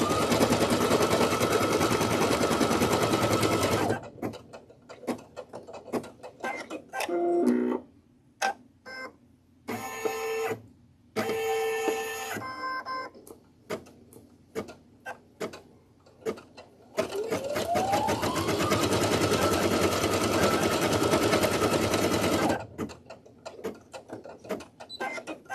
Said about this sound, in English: I really should wait until the machine's actually done stitching before I take the thread out.